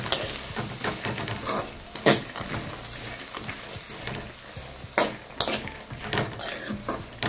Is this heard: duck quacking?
no